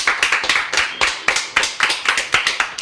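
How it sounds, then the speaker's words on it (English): A small group gives a round of applause, sharp individual claps in a quick, fairly regular rhythm, close and clear with no talk over them. "Everybody round of applause."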